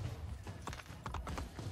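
A horse in Assassin's Creed Brotherhood trots with quick, rhythmic hoof clip-clops that sound close and fairly loud, about a dozen strikes over a brief stretch.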